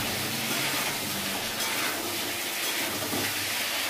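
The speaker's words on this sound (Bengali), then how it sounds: "মাছের আলু আর বাঁধাকপির আলু একসাথে ভেজে নিচ্ছি" Potatoes for fish and cabbage curries fry together in a pan, a steady, close sizzle with faint stirring, unbroken and fairly loud throughout, no voices.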